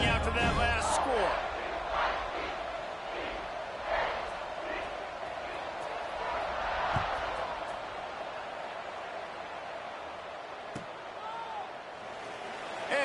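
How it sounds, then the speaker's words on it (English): A football stadium crowd at an Oregon versus Oregon State game buzzes after a touchdown, a broad steady roar running under the announcer's voice throughout. "this crowd is buzzing after that last score"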